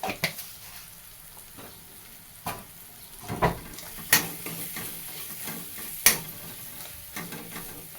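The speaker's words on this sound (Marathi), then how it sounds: "असं हलवीत राहायचं सारखं" Vegetables are stirred in a hot sizzling pan for a Gudi Padwa thali, with a steady fry hiss broken by sharp scrapes and clicks of the spoon against the pan at irregular intervals.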